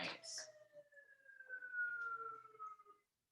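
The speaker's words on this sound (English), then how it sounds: "Apologize if you can hear the sirens in the background." Wailing emergency sirens in a rising and falling sweep carry on steadily in the background of a kitchen during a food-fermenting workshop, moderately loud, ending with a brief bump of other noise.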